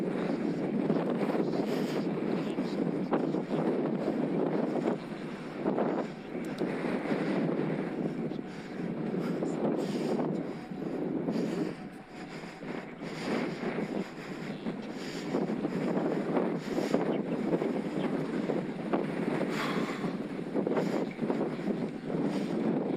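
Strong wind buffets the microphone during a bike ride in the Peak District, a steady loud rumbling roar that surges and dips for the whole stretch, with no talking.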